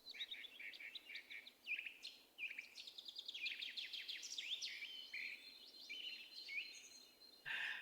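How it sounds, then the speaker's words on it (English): Birdsong fills the air: several birds chirp and trill in quick, overlapping phrases, clear and fairly close, with no voices. "I'm going to start the bird song"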